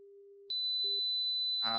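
A pure 4,000 hertz sine test tone sounds steady and piercing for over a second, following a lower tone and a brief blip, and ends as a voice begins.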